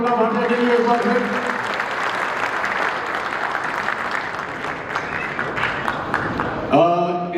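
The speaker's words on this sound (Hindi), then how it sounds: "जोरदार तालियां तमन्ना भाटिया के लिए एक बार फिर" A crowd applauds actress Tamannaah Bhatia at a lighting product launch event, with sustained clapping filling the hall, a host's voice heard briefly at the start, and music rising near the end.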